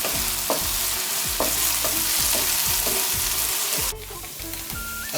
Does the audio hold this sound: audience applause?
no